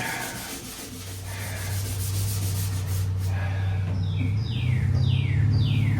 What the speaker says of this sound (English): It's gonna need to be sanded better than that, but to start.